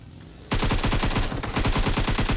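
PUBG Mobile gunfire: after a quiet moment, a rapid automatic burst starts abruptly and keeps rattling in an even, fast rhythm for about two seconds, loud and close, with no voices.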